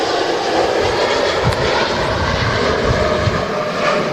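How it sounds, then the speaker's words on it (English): A TUI Boeing Dreamliner passes at Manchester Airport with a loud, continuous jet rumble and whine that stays steady from start to finish, no talking. "There goes the TUI Dreamliner"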